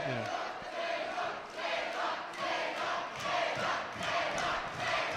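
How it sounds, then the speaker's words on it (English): A crowd at a high school wrestling match cheers and yells in rising, swelling waves that fill a gym, loud and sustained throughout. "Crowd's getting into it."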